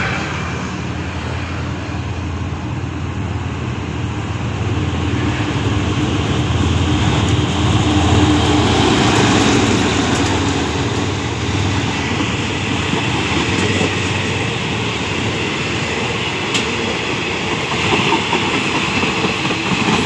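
GEA 4542 diesel locomotive hauling ordinary passenger train 233 past a conservation area office in Thailand, a loud, close, sustained rumble of engine and rolling coaches with rail clatter throughout.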